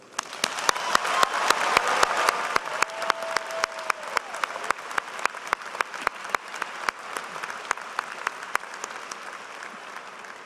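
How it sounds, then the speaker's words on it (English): A large commencement crowd gives a long, loud round of applause, dense clapping that peaks early and then thins, with scattered individual claps standing out until it trails off near the end. "Please join me in congratulating them with a very loud round of applause."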